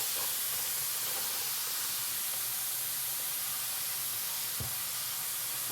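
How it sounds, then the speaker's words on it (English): Food sizzles in a hot carbon steel pan during Korean home cooking, a continuous, fairly faint hissing spatter that stays even throughout, with a small clunk near the end. "Listen to that sizzle."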